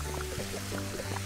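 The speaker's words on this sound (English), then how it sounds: "Recharge the water gun." A water gun refills in a cleaning simulator video game: a soft pouring, filling wash sits under low electronic tones and a few short chiming blips, with no talk.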